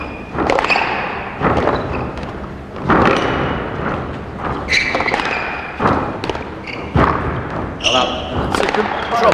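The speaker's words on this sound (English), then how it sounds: "That's a good drop shot on the forehand by Mark Chaloner." Squash rally in a 1998 British Nationals match, ending in a forehand drop shot: crisp ball strikes and wall thuds ring out in an irregular rhythm, echoing in the court, with a commentator talking over them.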